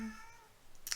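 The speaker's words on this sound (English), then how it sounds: "Kitties are out there fussing." A single cat meow, fairly faint and drawn out, tapering off before a brief rustle at the end.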